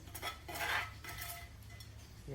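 A spoon scrapes and clinks against a pan or dish while meat or vegetable stir fry is spooned into a quiche Lorraine, with a few close, light metallic taps and rustles and no talk.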